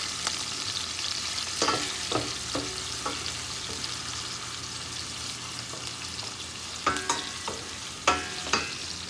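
Beef stir-fried for pilaf rice, a steady background sizzle with intermittent spatula scrapes and clacks against the pan that grow sharper toward the end, no one talking.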